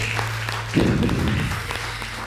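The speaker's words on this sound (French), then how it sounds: "Un maximum d'applaudissements pour Précieuse," Applause from the audience at a women's eloquence contest in Lubumbashi, a brief swell of clapping under a background hum, short and moderately loud.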